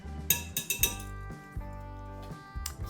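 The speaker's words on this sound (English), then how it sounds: "So we'll whisk those." A whisk stirs flour, ginger and spices for gingerbread in a bowl, giving a few irregular ringing clinks and taps of metal against the bowl, quiet and close, with no talking.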